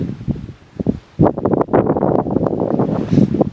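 Gusty wind blows across an open, exposed campsite area along the North Country Trail in Michigan's Upper Peninsula, buffeting the microphone and rustling in strong, uneven bursts after a quieter opening.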